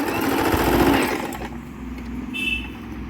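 A Singer M3505 sewing machine stitches fabric with a steady, close buzzing motor hum. It runs loudest for the first second and then eases to a softer whir.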